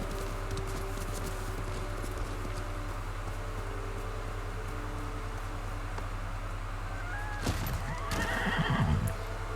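A horse in the Ghost of Tsushima video game whinnies loudly near the end, with hoofbeats clip-clopping over a steady low background hum and no talk.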